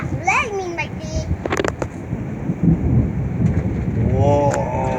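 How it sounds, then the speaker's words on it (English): Thunder rumbling steadily through a June windy, rainy gale, loud and continuous, with children and adults talking excitedly over it. "That's lightning right there."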